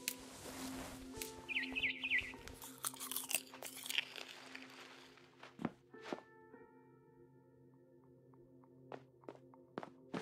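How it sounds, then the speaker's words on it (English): Barn swallow chirping in the game What Remains of Edith Finch, a few short, sharp chirps spaced over the latter half after crunchy chewing and footstep-like sounds, moderately close with no talk. "Then I heard chirping outside my window."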